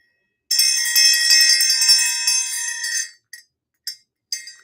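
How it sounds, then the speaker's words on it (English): A small brass elephant bell rings with a bright metallic shimmer that sustains for a few seconds, then gives three short, separate strikes that each decay quickly; close and clear with no voices. "I'm gonna run the little mini elephant bell."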